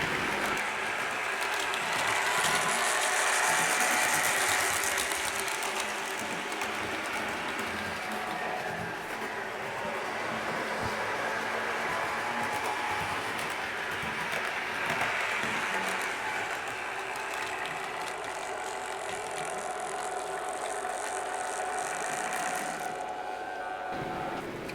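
A Bachmann model train locomotive running along the track through a converter point, a continuous close whirring and clattering rumble that holds steady for about twenty-five seconds with no talking.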